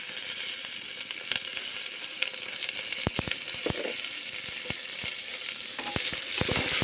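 Turmeric, cumin powder, salt and a little sugar frying together in a pan: a steady hiss of sizzling, broken by a few close metallic clicks and ticks of a spoon, fairly loud, swelling slightly at the end, no talking.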